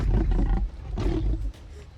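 Movie-style T-Rex roar in the manner of Jurassic Park: two deep, rumbling, growling bellows in quick succession, loud and close, the second trailing into a lower rumble.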